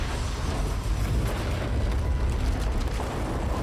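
A deep, sustained explosion rumble from the video game Dying Light 2, a broad roar of low-end noise holding steady and loud for several seconds with no talking over it.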